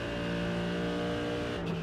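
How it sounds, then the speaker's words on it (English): A loud, steady high-rev engine drone from a race car in the iRacing simulator holds its pitch. It shifts tone briefly near the end, with a faint tire squeal and no voices. "So it does rev pretty hard, the engine, so you can rev the living daylights out of it."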